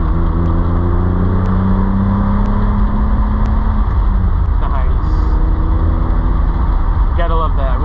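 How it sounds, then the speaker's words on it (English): Rev-matched manual downshift in a 2003 Mitsubishi Eclipse GTS Spyder with a 3.0L V6, heard from inside the cabin: a steady engine drone drops, then a sharp blip of revs rises as the gear changes, with speech over it. "So down, rev match downshifting."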